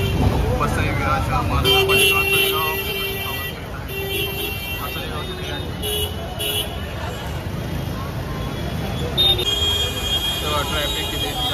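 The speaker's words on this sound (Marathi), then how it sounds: "ट्रॅफिक किती जाम झाले सर्व" Jammed road traffic in rainy Nalasopara during the Dahihandi festival, with a steady wash of idling cars and engine rumble, a few short horn toots, and people talking throughout.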